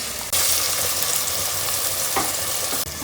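Onions and tomatoes for a prawn curry sizzle and fry loudly in a pan, a continuous close crackle broken by brief stirring scrapes.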